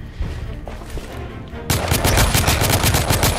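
Rapid gunfire in The Order: 1886, a loud fast burst of shots following a quieter stretch of game sound.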